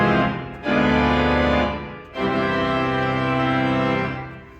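A large walk-in pipe organ sounds its full swell division with 16-, 8- and 4-foot stops together in two loud sustained chords, with a brief dip between them and a slow fade at the end.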